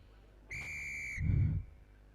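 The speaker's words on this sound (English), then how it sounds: "Ref blows her whistle" A rugby referee at an Asia Rugby Championship under-19 match between Malaysia and the UAE blows one sharp, bright whistle blast lasting under a second, followed by a dull thump, with no talk.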